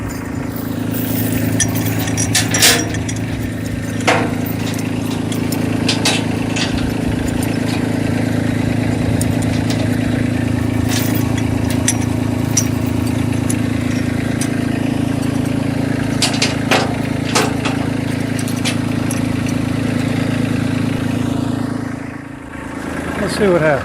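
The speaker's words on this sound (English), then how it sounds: "I don't know if you can hear me over the sound of the tractor" Steady, loud rumble of a tractor engine idling close by, with occasional metallic clinks and knocks over the drone.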